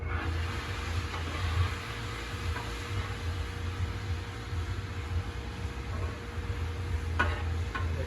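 Chicken and onions sizzle steadily on a Blackstone flat-top griddle while being pushed to the cooler side, a continuous close frying hiss with a few faint scraping knocks near the end.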